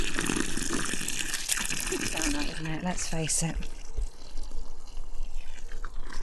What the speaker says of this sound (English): What I'm going to do is water the hole first.